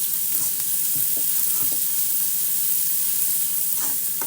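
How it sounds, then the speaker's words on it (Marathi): Onion frying in a pan for cabbage paratha, a loud, dense continuous sizzle with a few scattered stirring scrapes, close and steady. "बघा कांदा आपला भाजलेला आहे"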